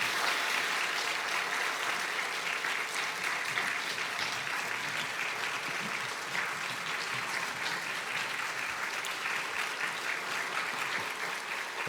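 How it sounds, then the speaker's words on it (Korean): A church congregation at a revival meeting applauds steadily for the full stretch, a dense, even wash of clapping with no speech over it. "한번 박수로 좀 격려해 주시면 고맙겠습니다."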